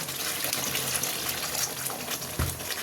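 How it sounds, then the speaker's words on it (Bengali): Water pours steadily into a pot of malai chicken curry, a continuous close gushing splash that holds at an even level throughout, with no voices. "এবার আমি একটু জল দিয়ে দেবো"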